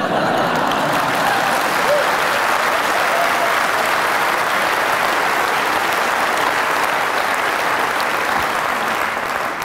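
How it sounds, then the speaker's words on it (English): Audience applause at the MacTaggart Lecture, a television industry festival address, fills the room as dense, sustained clapping from a large crowd, loud and steady throughout without a break. "You can applaud."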